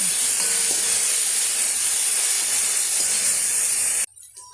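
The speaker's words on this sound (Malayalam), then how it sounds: "ഇതിലേക്ക് 2 കറിവേപ്പില ചേർക്കുക. വീണ്ടും നന്നായി വഴറ്റുക." Squid frying with curry leaves, ginger and garlic in a hot pan, a loud continuous close sizzle and hiss that cuts off abruptly near the end, followed by faint clatter.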